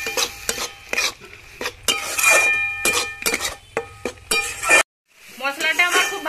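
Spice masala with red chilli and turmeric powder, plus dried chillies, frying in a pan, with repeated scraping and stirring strikes of a metal spoon against the pan over a sizzle, ending in a brief pause before the sizzle resumes.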